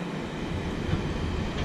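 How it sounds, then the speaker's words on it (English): Freight train passing slowly by a canal in winter, a steady low rumble with faint rhythmic rolling of wagons, close and continuous with no talking. "freight train."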